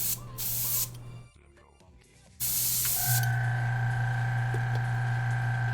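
A freshly ultrasonic-cleaned airbrush, in for a rebuild, spitting pigment in harsh hissing bursts of spray, broken by a short gap, followed by a steady airflow hiss with a hum underneath.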